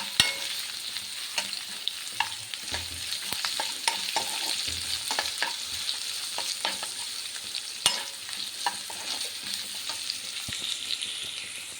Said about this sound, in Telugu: ఆనియన్ క్యారెట్ ఫ్రై చేస్తున్నాను